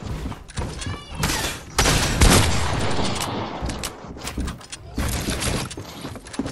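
Gunfire from the Fortnite video game comes as dense bursts of rapid shots and thuds across the whole stretch, loud and busy, with players' voices talking over parts of it.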